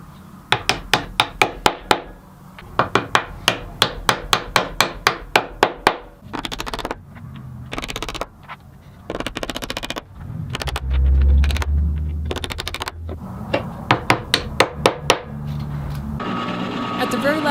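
3D printed inserts being hammered into a homemade wooden router bit storage rack: rapid bursts of sharp, close taps in quick runs separated by short pauses, with a brief stretch of talk in the middle.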